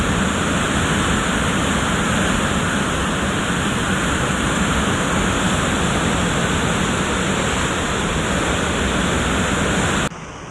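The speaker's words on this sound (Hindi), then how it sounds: "भागीरथी नदी में सदा ही शोर बना रहता है" The Bhagirathi river roars at the Devprayag confluence, a loud, steady, broadband rush of fast water that holds without pause and then drops off abruptly at the end, with no voices.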